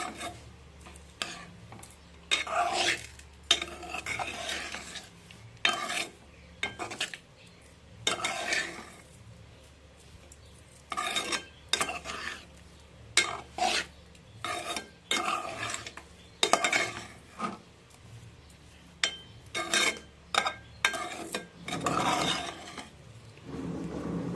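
Sweet saffron rice with sugar being stirred in a metal pot, with repeated scraping and clinking strokes of a spoon in irregular bursts, close and fairly loud, no talking.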